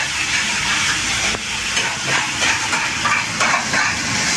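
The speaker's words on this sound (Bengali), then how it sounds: "এখন আমি কষাচ্ছি টমেটো পেঁয়াজ দিয়ে" Tomato and onion sautéing in a hot pan, with a steady, close sizzle and hiss and occasional scrapes and stirring clatters throughout.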